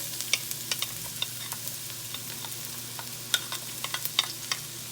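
Garlic and onions fry in a pan for a fish sauce while being stirred, making a steady close sizzle broken by a spoon's clicks and scrapes at irregular intervals, with no voices.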